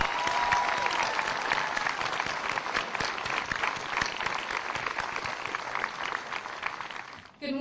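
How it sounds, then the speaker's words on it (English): Millbrook High School graduation audience gives a long round of applause honoring a retiring staff member, a dense, even crowd clapping heard at moderate distance, ending abruptly. "we could give him a round of applause and thank him for his years of service."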